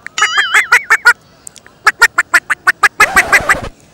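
A man mimics a duck, giving a loud, close run of rapid nasal quacks in bursts with short pauses, ending on a longer honking quack.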